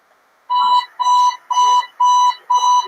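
Alarm clock beeping loudly and close, five evenly spaced electronic pulses roughly half a second apart, alone with no talk.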